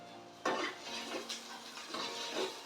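Chopped onion and tomatoes sautéing in a pan, a gentle sizzle broken by a few spatula stirs and light metallic knocks against the pan, close and quiet with no voices.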